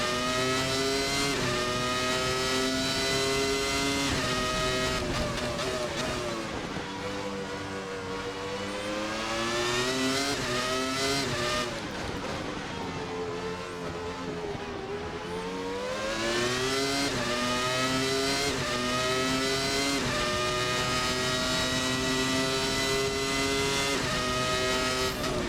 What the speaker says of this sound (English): A V10 engine with a great engine note.